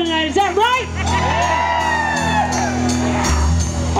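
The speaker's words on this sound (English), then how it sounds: "is a very enthusiastic crowd here in Catasauqua tonight" An enthusiastic crowd at a live country music show in Catasauqua shouts, whoops and cheers continuously, loud and close, with scattered higher whistles and yells rising above the steady roar.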